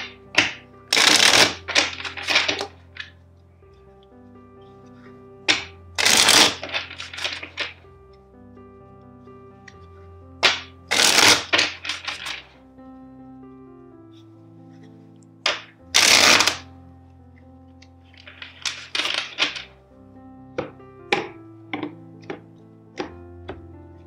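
Tarot cards shuffled by hand in four separate bursts of riffling and soft card taps, each burst a few seconds long with quieter pauses between, close and clear without voices.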